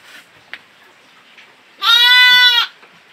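Merino sheep and goats at a farm pen in Banjarnegara, with one loud, close bleat that lasts under a second, set between quiet stretches that hold faint background noises.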